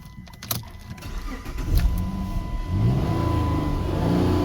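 A car engine cranks and catches after a diagnostic trouble code is cleared, then revs and settles into a steady, loud idle with rising throttle, recorded close up with brief clicks at the start.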